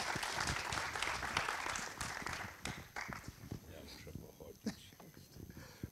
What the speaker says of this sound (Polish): Wielkie brawa dla pani Krezowaty.